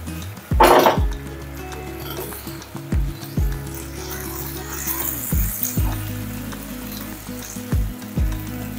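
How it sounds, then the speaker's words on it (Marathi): Water splashes into a hot pan holding potatoes and French beans, setting off a loud sizzling burst, then continued frying hiss with repeated metallic clinks and scrapes of utensils against the pan. "पाव पेला पाणी मी घालते याच्यामध्ये पॅन मध्ये।"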